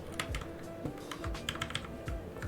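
Typing on a DZ60 mechanical keyboard produces a quick irregular run of clicky keystrokes, close and moderately quiet, with no voices.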